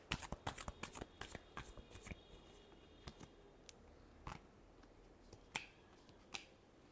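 Tarot cards are shuffled by hand close up, a quick run of soft papery riffles and taps that thins into sparse, isolated clicks, quiet and without speech.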